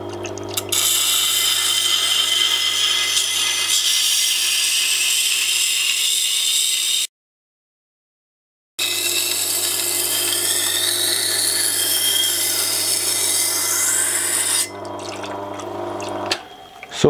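A tool being sharpened on a 400 grit CBN wheel gives a steady, loud grinding hiss with a low motor hum underneath, broken by one short silent gap before grinding resumes and then tails off.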